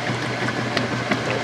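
Water sloshing and churning inside a belt-drive washing machine tub during agitation, a steady close wash of splashing with brief louder surges, no talk.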